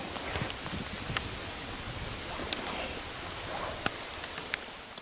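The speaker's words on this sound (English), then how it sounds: "It's just gonna rain all day, so I'm just gonna wait it out." Steady rain falls in an outdoor setting during a late-season elk hunt, a continuous hiss with occasional sharper drips and taps close by, and no voices.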